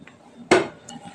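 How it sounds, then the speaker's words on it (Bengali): A stone pestle (nora) strikes down to crush ingredients in a home kitchen, giving one sharp, close knock with faint softer taps around it in a quiet room. "আমি একটা নোড়া দিয়ে ভালো করে থেতো করছি।"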